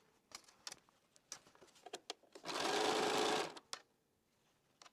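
A sewing machine stitching a quilt runs in one steady burst of about a second, loud and close, surrounded by quieter clicks and fabric handling.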